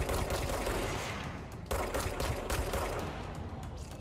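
Enemy fire in the video game Control: dense, rapid automatic gunfire rattles on continuously, loud and close, with a brief break midway before the bursts resume.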